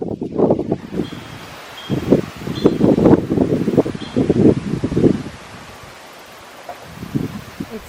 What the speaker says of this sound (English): one moment the wind is blowing, the next moment it's calm